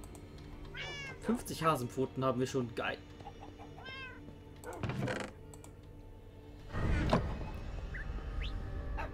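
Cats meowing in the video game Minecraft, several short, high, rising meows in quick bursts, interleaved with someone talking and a few clicks.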